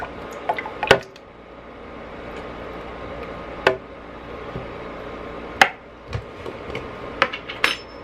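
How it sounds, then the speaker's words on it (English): Thick tomato sauce pours from a can into a cooking pot in a home kitchen, with soft liquid glugs and drips and a few sharp metallic clinks of the can against the pot, close up, no talking. "So I'm adding in a can of tomato sauce."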